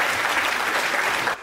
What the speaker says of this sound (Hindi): एक बार पूरा सदन मुझे ताली बजा के आशीर्वाद दे